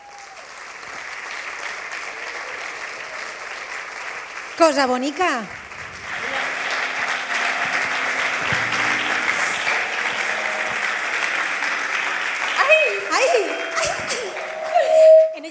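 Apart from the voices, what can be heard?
audience applause for Mireia Vives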